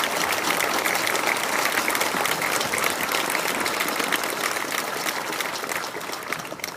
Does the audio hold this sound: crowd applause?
yes